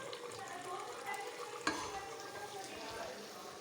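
Cauliflower frying in a pan of hot oil, a steady soft sizzle with light stirring throughout and one sharp clink of utensil against the pan midway.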